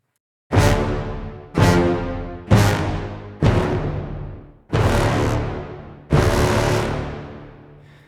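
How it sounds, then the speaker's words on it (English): Tutti orchestra short staccato sample, six loud full-ensemble chord hits alone in steady succession, each struck sharply and decaying with a ringing tail, the later hits held slightly longer. "Let's pick the tutti orchestra short for this track."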